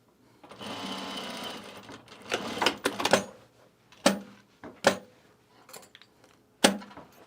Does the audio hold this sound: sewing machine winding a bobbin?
yes